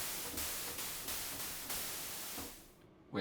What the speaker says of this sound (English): which just sounds like kind of white noise